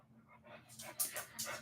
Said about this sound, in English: My dog finally woke up and now she's moving around and trying to get comfortable.